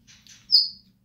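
A few quick, high bird chirps in close succession, the last one louder and longer, against near silence.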